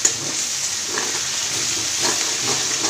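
Ginger, garlic, chili and cumin paste fries in a pan for a biryani, a steady close-up hiss and sizzle with faint stirring scrapes and no talking.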